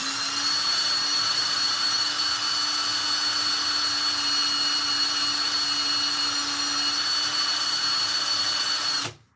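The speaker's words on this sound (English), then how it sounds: "It's almost like a mandrel or like a lathe." A rotary mandrel tool polishes a ring with a steady, high-pitched whine that runs loud and unbroken at close range, then cuts off abruptly at the end.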